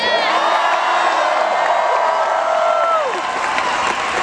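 A large rally crowd in Los Angeles cheers, whoops and applauds loudly and continuously, with shouted voices swelling and slowly tapering at the end.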